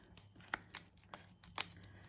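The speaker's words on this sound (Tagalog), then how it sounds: "Ganito pala mag-open ng corned beef." A can of corned beef being opened, with a few faint, sharp clicks and crinkling scrapes spaced irregularly in a quiet room.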